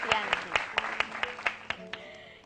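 Audience clapping at a TIENS multi-level-marketing business event, a steady rhythmic beat of claps about four per second, mixed with a sustained voice or music and fading as it ends.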